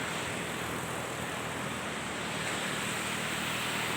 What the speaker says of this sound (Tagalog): Ang ganda ng alon, no?